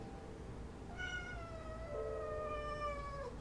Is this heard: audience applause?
no